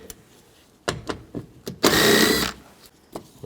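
Short ratcheting and clicking bursts from a 10mm socket working door panel bolts loose on a 2004-08 Nissan Maxima, with a longer whirring run in the middle, close up and moderately loud.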